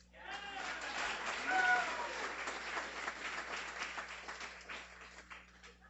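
Audience applause at a guide dog graduation ceremony, a moderate wash of clapping that swells and then fades, with a voice speaking briefly over it.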